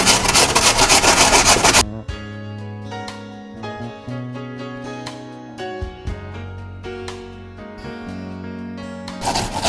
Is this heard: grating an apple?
yes